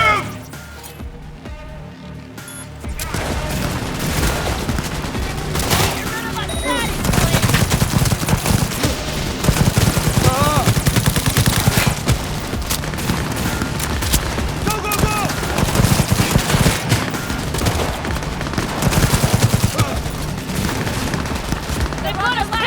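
Sustained bursts of gunfire in the video game Cyberpunk 2077 during a nomad heist, loud rapid volleys layered over music and battle noise, with voices talking at times.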